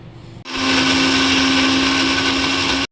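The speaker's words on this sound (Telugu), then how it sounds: "తర్వాత జ్యూసర్లో వేసి జ్యూస్ చేసుకోవాలా" An electric juicer whirs at high speed as it works through mango pieces, starting abruptly, holding a loud, steady motor whine with a strong tonal hum, then cutting off sharply.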